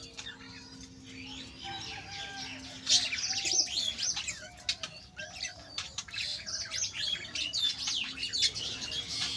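Budgerigars in a parrot colony aviary chirp and warble continuously, a dense chorus of overlapping high twittering calls that swells louder partway through, with occasional wing flutters.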